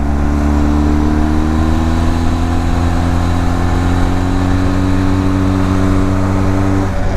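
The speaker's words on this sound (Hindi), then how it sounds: "Rest, this motorcycle feels so good in the sound." Benelli TRK 502X twin-cylinder motorcycle engine running steadily close by, holding a loud, even drone with a slight rise in pitch partway through, and no talking.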